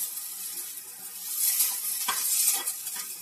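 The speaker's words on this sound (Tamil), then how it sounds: "இது கொஞ்சம் கட்டி பிடிக்காம நல்லா கிண்டி விடணும், இல்லைன்னா கட்டி பிடிச்சிரும்" Semolina cooking with milk in a pan is stirred steadily to keep lumps from forming, giving a soft bubbling sizzle with light scraping strokes that swell and fade, close and without talk.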